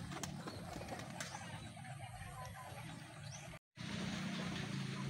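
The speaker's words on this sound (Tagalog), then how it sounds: "Ayan na sila mga kalapatid" Pigeons coo softly outdoors against a steady ambient background, with a low murmuring call repeating through the scene and faint distant traffic; no one speaks.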